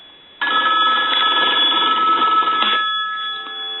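A Bell South single-slot payphone rings once, a loud metallic bell burst lasting about two seconds, then it decays into a lingering electronic buzz.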